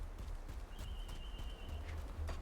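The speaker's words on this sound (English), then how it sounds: "Okay, so there's a horse." Horse hooves clip-clop in the video game Grim Dawn, a quick run of soft, evenly spaced footfalls over a faint ambient game background, with no voices.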